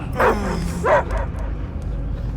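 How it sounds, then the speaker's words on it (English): A dog in the video game Guardians of the Galaxy gives two short, fairly loud barks or yips close by, then faint game ambience follows. "I hear only barking."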